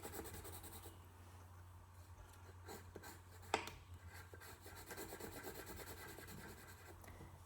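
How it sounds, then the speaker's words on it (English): A light green pencil sketches leaves on paper. The scratching is soft and continuous, with faint rubbing strokes and one slightly sharper tap partway through, heard close and quiet with no voices. "I'm gonna just go ahead and sketch out some leaves with the light green"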